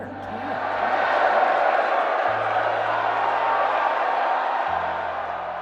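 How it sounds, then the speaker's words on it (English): A large crowd erupting at a product launch event, loud sustained cheering and shouting that swells early and holds steady, with a low droning tone underneath. "The crowd erupted"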